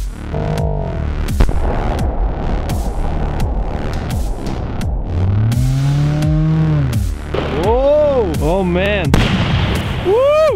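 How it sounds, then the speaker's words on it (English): A huge explosion from a flare gun and Colt 1911 shoot, a heavy blast followed by rolling booms and crackling echoes, with excited voices shouting and whooping over the rumble throughout. "This is a huge explosion!"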